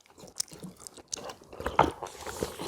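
Crunchy chewing of dongchimi, Korean radish water kimchi, during a mukbang meal; close, moist bites and crunches come in irregular bursts with no talk.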